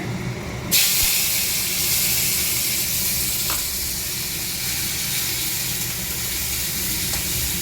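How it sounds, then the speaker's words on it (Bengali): Prawns hit hot oil with cumin in a frying pan, setting off a sudden loud sizzle that settles into a steady, dense hiss with faint stirring clicks and no voices. "এখন জিরাটা দিয়ে দিয়েছি, এখন চিংড়ি মাছটা দিয়ে দেবো"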